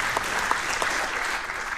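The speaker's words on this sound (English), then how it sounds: "Big applause." Conference audience at a network operators' meeting closing applauds continuously, a dense, even wash of clapping heard alone and close throughout.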